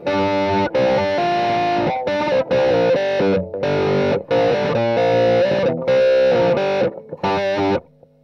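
An electric guitar runs through a wah-wah pedal with heavy distortion, playing loud, sustained chords and notes in choppy bursts broken by short gaps, with no voices.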